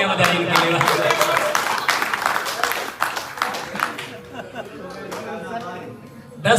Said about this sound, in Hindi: इसके लिए 2 बार तालियां बजाएंगे इनके लिए।